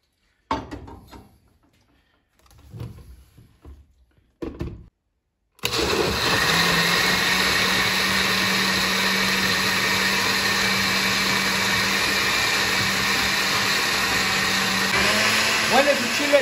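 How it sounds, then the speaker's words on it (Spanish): A blender whirring steadily as it purees mole ingredients with broth, a loud continuous motor drone that starts abruptly after a few short bursts of speech and runs without pause. "Y luego lo vamos a licuar con el caldito."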